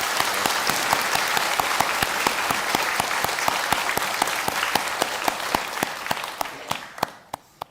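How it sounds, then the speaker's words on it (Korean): A church congregation applauds, producing dense, loud, sustained clapping that holds steady for several seconds and then thins to a few scattered claps at the end. "우리 기도원 식구들을 위해서도 한번 박수하겠습니다."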